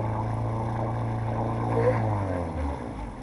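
A boat motor drones steadily with a low, continuous hum, fairly close, its pitch dropping slightly near the end.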